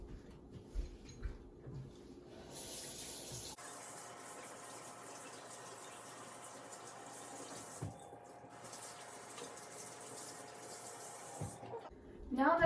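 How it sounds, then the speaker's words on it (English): A kitchen tap runs during handwashing, giving a quiet steady hiss of flowing water that starts after a short pause and continues for several seconds, with faint handling noises and a few brief knocks. "the first step in making the pizza is washing your hands"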